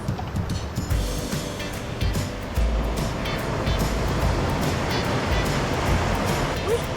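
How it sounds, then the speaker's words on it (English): Big ocean waves driven by strong winds crashing on the reef at Batu Bolong beach in Bali, a continuous heavy roar of surf with surges of louder breaking water. "These big waves are caused by strong winds."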